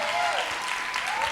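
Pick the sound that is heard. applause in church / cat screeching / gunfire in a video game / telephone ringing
applause in church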